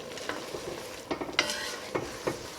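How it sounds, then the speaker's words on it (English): Rice stirred in a pan with white wine for a spring risotto, a soft sizzling simmer under a few scraping spoon strokes at irregular intervals, close and fairly quiet, no voices. "we're going to stir that and just let that cook for about a minute or so until the wine starts to evaporate"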